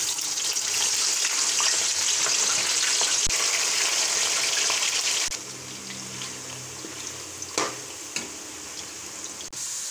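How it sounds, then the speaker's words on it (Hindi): French fries sizzle steadily in hot oil in a home kitchen, a dense close hiss that drops to a quieter bubbling midway, with a few faint clinks and no talk. "उसी ऑयल में अब हम लोग फ्राइज़ तैयार करेंगे।"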